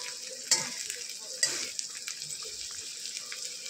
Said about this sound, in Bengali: আমি আগে থেকে তেল গরম করে পেঁয়াজ, শুকনো লঙ্কা ফোড়নে দিয়ে দিয়েছি